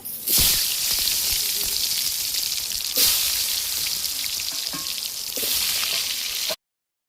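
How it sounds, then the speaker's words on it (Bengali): Potatoes with turmeric and salt sizzle and spit in hot oil for chicken biryani, a steady close crackling hiss with a few louder bursts as they are stirred or turned. "তেলটা আলুটা ভেজে নিচ্ছি বিরিয়ানির জন্য।"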